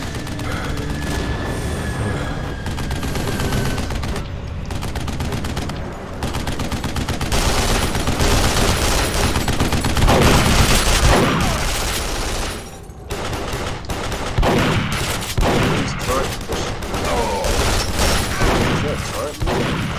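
Machine gun fire in Duke Nukem Forever: dense, sustained bursts of rapid gunshots with booms, nearly continuous for the whole stretch with brief pauses, a voice talking over it.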